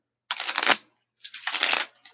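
A deck of animal oracle cards is shuffled in two quick riffling bursts, close and crisp, with a short pause between them and a brief third flutter at the end. No talk.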